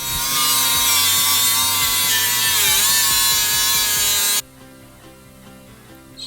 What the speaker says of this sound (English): I'm going to grind down these edges here so it's a little smoother.